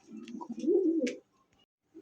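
A pair of mukhi pigeons coo nearby in a low, rolling burst lasting about a second, followed by a short pause before another coo begins.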